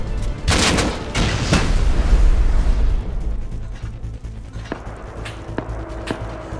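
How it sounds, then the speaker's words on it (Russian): Video game firefight with gunfire and rocket explosions: dense, loud bursts of shots and heavy booms up front, thinning into scattered sharp single shots and mechanical clicks. "По нам стреляют?"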